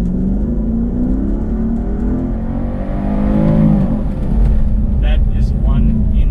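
A Mercedes SLK 55 AMG in sport mode accelerates hard from about 20 km/h, its engine roar heard loud and close from the cabin, building steadily over several seconds.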